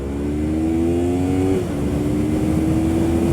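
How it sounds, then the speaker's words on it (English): A Yamaha MT-03 motorcycle engine, 12,000 rpm redline, revs hard and climbs quickly in pitch, drops briefly at a gear change, then pulls on steadily, loud and close with no talk. "Very fast revving engine"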